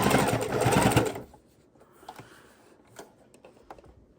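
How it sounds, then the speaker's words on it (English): A sewing machine stitches near the edge of four fabric layers of a fabric bowl, a loud dense whirring run for about a second, then stopping, followed by faint clicks and handling sounds. "we're going to sew real close to the edge"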